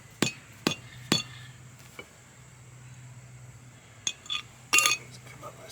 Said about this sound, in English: This hammer.